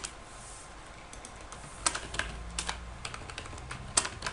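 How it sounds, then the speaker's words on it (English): Keys tapped on a computer keyboard while typing a username into a new-user setup screen for a minimal Ubuntu 12.04 Linux install, a quiet run of irregular clicks with a few sharper keystrokes, close and alone. "We're going to type in,"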